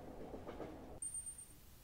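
A train in the Shikiyoku video game rumbles faintly with low clattering, then fades and gives way to a thin high whine.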